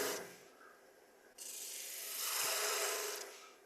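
Woodturning tool cutting a wooden spigot on a lathe, shaping it into a foot; a steady rasping scrape starts quietly, then swells loud and continuous for about two seconds before easing off.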